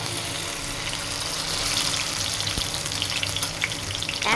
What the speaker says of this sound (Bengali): তো শুটকিটা তেলের মধ্যে দিয়ে দিচ্ছি।